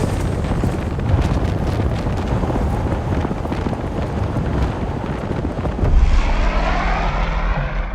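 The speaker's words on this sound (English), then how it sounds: "the pilot wasn't even going to stop the engines" Airplane engines keep running on the ground after landing on a remote airstrip in South Sudan, a loud continuous roar buffeted by wind rumble, with the pitch settling lower toward the end.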